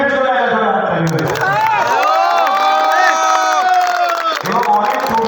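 A crowd at a film team event whoops and cheers loudly with scattered clapping and shouting voices, dense and close throughout.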